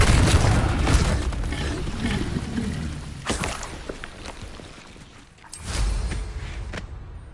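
A Confringo blasting curse explodes in Hogwarts Legacy, a deep booming burst with crackling debris that fades, followed by further heavy thuds and a second swelling blast near the end, loud and close.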